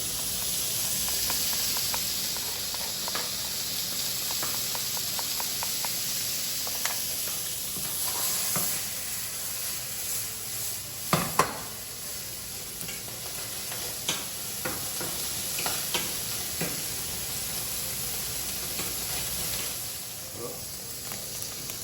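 Lardons frying in a pan, a continuous close sizzle and hiss with occasional sharp pops and utensil clicks, and a voice speaking intermittently over it.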